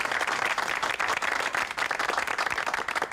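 A crowd claps for nurses and doctors at a blood donation gathering, many hands beating in a steady, moderately quiet wash of applause that carries on unbroken, with no voices over it.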